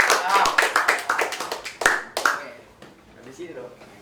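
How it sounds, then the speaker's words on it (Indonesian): Classroom applause from students, a burst of hand claps that fades after about two seconds, followed by quieter room noise and faint voices talking. "Tolong memberi tepuk tangan ke Madi."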